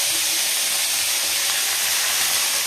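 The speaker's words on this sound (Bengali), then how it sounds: "সাদা তেল দিয়ে ভালো করে ভেজে নেবো ওটাকে ফার্স্টে" Vegetables frying in white oil in a home kitchen, a loud, continuous hissing sizzle with no break and no voices over it.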